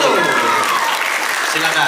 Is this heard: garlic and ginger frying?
no